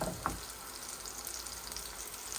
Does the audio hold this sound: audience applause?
no